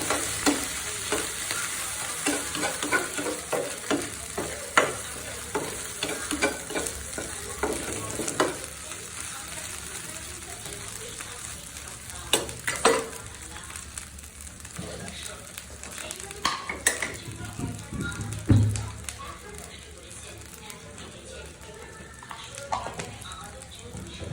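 Dried chepa fish fries with cumin powder in a pan, the oil sizzling steadily as a utensil stirs and scrapes over and over at close range, with occasional knocks against the pan and brief talking now and then.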